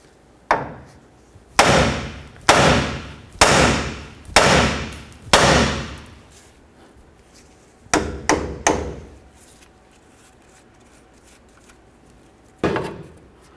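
Loud metallic hammer strikes on a 1988-2000 Chevy C/K1500 steering knuckle to knock the outer tie rod end loose, a run of five sharp ringing blows, then three quicker hits and one final strike after a pause.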